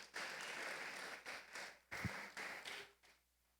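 A church congregation gives the Lord a round of applause during a sermon: faint, fairly distant clapping in several short bursts separated by brief pauses.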